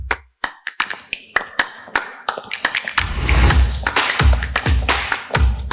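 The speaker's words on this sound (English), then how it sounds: "I would like to invite them to the stage with a round of applause" An audience at an Istanbul conference session claps for panelists coming on stage, first scattered sharp individual claps close by, then swelling into fuller, sustained applause.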